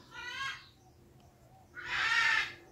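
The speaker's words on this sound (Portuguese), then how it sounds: "Temos companhia hoje aqui da Arara." A macaw gives two harsh, raspy squawks, a short one and then a louder, longer one, in a quiet indoor room during a crochet session.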